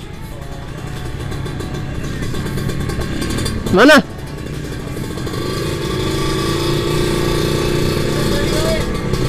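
A 2015 Kawasaki Ninja RR two-stroke motorcycle idles with a raspy, crackling engine note, giving one quick sharp rev blip midway, while someone talks nearby throughout.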